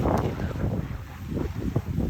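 A boat on the Mekong River between Thailand and Laos, heard as a continuous low engine and water rumble with heavy wind buffeting the microphone, steady and fairly loud throughout.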